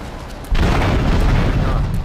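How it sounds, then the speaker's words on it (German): A car explodes in the video game GTA 3, a sudden loud boom that erupts after a brief quiet moment and then rumbles on as a thick, sustained blast of noise. "mit einem Knall verabschieden wir uns von dem Yakuza-Wagen"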